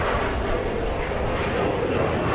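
An airliner taking off at Los Angeles International Airport, a steady, loud, broadband engine roar with no change in level. No other sound stands out above it.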